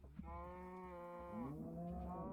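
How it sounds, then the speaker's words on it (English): Several cows mooing loudly one after another, long drawn-out lowing calls with a rising second moo near the end, close by and with no talk. "Oh, those are some loud little cows."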